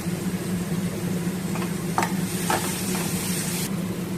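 Spice paste of tomato and turmeric sautés in a pan for pomfret curry, a steady sizzle with a low burner hum, broken by a few soft scraping clicks of a spatula stirring.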